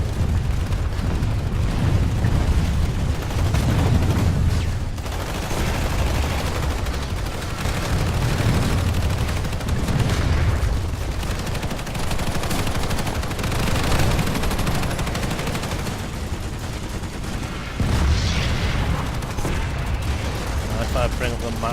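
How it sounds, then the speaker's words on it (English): Gunfire from multiple units firing down on a base in the Planetside 2 game, a dense unbroken roar of shots and blasts running throughout beneath intermittent talk. "Firing down on the base. Also from up there, multiple units firing down as well."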